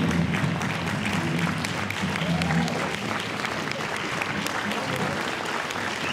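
A crowd at a Who's Who in Black Columbus unveiling reception applauds inductees in a steady, full wash of clapping lasting about six seconds, with a few voices murmuring underneath.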